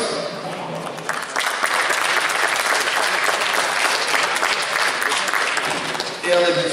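Loud, sustained applause from an audience at a mixed billiards tournament final in Chantepie, welcoming player Yann Le Goff of Roscoff, dense clapping running for several seconds before tapering as a voice begins.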